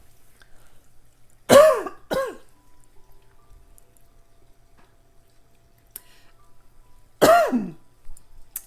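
Three short bursts from one person: two quick throat clears close together, then a single louder throat clear or cough a few seconds later, each near and distinct against a quiet room with no talking.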